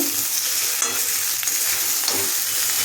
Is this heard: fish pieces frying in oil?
yes